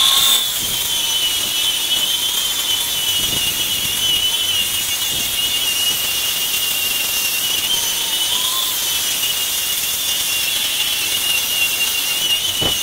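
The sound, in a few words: power sander sanding a custom wooden deck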